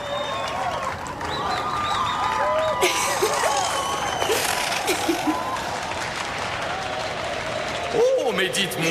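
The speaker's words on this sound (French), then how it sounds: "Applaudissons très fort Kenny, le caribou." An outdoor crowd applauds and cheers for Kenny the caribou, a loud sustained clapping with whoops and a voice talking over it.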